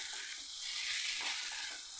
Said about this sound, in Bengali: সব দিয়ে আলু পটল দিয়ে মশলাটাকে কষিয়ে নেব